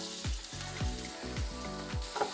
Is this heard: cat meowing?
no